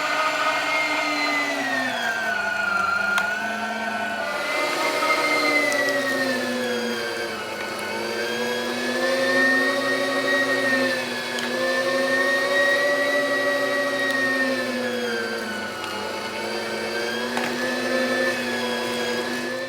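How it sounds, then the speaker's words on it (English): A meat grinder grinds chilled chicken, a loud, continuous motor whine with a droning hum whose pitch wavers up and down as the load changes, running steadily throughout with no talking. "Then we're going to grind the meat and place it in a non-reactive bowl."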